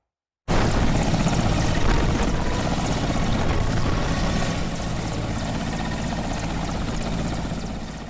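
Army helicopter carrying radar, flying over the Rishi Ganga river, starts abruptly and holds a loud, steady rotor and engine roar that fades slightly toward the end.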